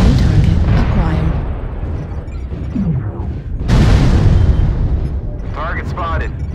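Artillery strike explosions in a video game roll out as dense, overlapping booms and rumbling blasts, one big burst near the middle, under a continuous battle din with game voice callouts.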